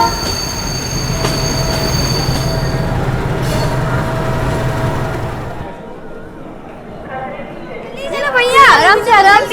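A passenger train rolling into a station in India, a steady loud rumble of wheels and cars that fades, then high squealing brakes as it slows, with voices mixed in.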